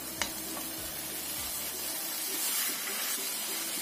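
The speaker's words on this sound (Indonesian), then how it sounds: "Ini kita aduk sampai bumbunya rata ke dalam ini ya." Wet Indonesian fried noodles (mi goreng basah) stirred in a hot pan, giving a steady close sizzle and hiss with a few scraping strokes of the utensil early on and no talk.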